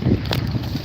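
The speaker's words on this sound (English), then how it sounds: "you're talking 35-mile-an-hour wind gusts right in my face right now" Strong wind gusts of about 35 mph buffet the microphone near a fast-growing wildfire, a brief rumbling rush of close, loud wind noise.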